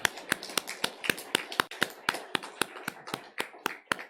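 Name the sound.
audience clapping to congratulate two people in church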